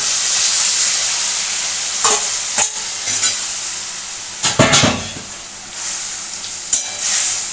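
Boiled minced meat tipped into a hot pan for a Bengali brinjal keema bharta, then stirred with a steady hiss and sizzle, scraping strokes and a louder burst of clattering partway through, no voices.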